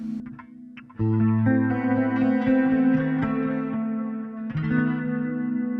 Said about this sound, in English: I'll put a nice delay here. I love the transistor tape delay.